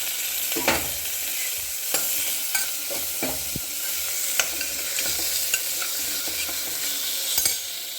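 Tomatoes sautéing with onions and fennel seeds in a pan, a steady close sizzle and frying hiss with repeated scraping stirring strokes throughout, no talking.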